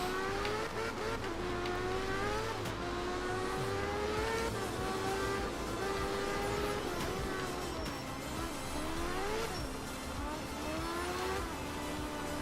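An all-wheel-drive rally car in the Art of Rally video game, engine droning and revving continuously through a drift with pitch rising and falling as it shifts, loud and steady with no voices.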